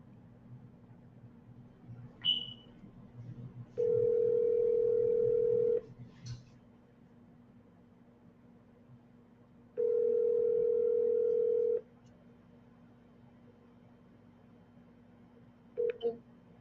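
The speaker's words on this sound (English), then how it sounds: "So let's go on phone with Tina" Telephone dial tone and call tones on a phone line, two long steady tones of about two seconds each separated by quiet, with short beeps between them, no talking.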